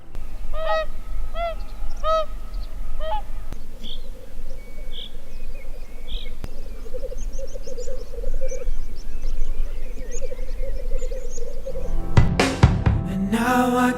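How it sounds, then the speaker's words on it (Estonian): A bog teems with many different bird calls: repeated honking cries, clear whistles and scattered chirps over a constant insect and frog-like buzz, with a loud burst of noise near the end. "kõige ägedam on see, kui palju erinevaid linnuhääli siin rabas kuuleb."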